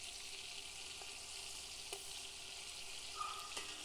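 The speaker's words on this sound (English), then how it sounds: "I'm not going to sear these for too long, just probably a few minutes on each side." Red fish fillets sear in a hot pan with a steady, loud sizzle and crackle, a few faint clicks and a brief higher hiss near the end, no voices.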